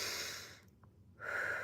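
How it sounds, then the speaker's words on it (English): A person takes a deep breath, two airy breathing sounds close to the microphone separated by a brief quiet pause, with no talking. "So let's take a deep breath"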